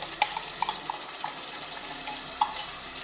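Spoon stirring curd masala in a pan with fried garlic and chilli, giving a few soft scraping clinks over a faint sizzle, light and close with no talk.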